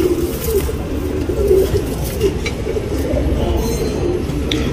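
A tournament racing pigeon coos in a steady, low, repeated rhythm, close and clear, over a constant rumbling background noise.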